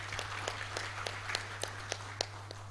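An audience at an awards ceremony gives faint, thin applause, scattered claps popping irregularly over a steady low hum in a large hall, heard from a distance.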